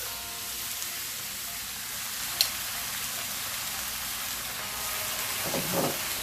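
Beef and broccoli sizzling in a stir-fry pan, a steady dense hiss of frying throughout with a brief stir or toss near the end, no voices.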